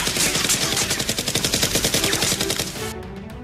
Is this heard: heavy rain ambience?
no